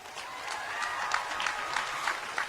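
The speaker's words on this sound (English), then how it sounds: "So we should all give ourselves a round of applause as well." Audience applause fills the room in a steady wash of clapping, dense and even from start to finish, with no voices standing out above it.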